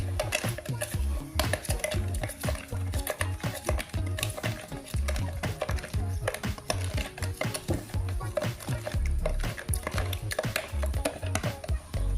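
Yeast mixture stirred in a bowl while making Bandung-style toast bread, heard as a steady run of quick clinks and scrapes, a utensil knocking rhythmically against the bowl, close and fairly loud throughout.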